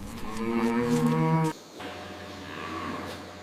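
Dairy cows moo on a farm, one long loud low moo followed by a quieter second call, with a steady drone underneath.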